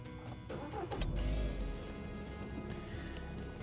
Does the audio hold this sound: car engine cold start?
yes